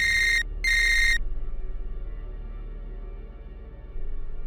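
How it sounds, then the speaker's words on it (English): A telephone rings at night: two short electronic trills close together, followed by a low steady hum and then a faint rise at the end. "Until one night, his phone rang."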